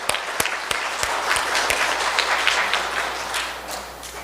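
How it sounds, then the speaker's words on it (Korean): A church congregation applauds during a Sunday Mass for the third Sunday of Lent, with a few sharp individual claps at first that swell into a sustained, fairly loud round before easing off. "박수로 응원해 주셔요"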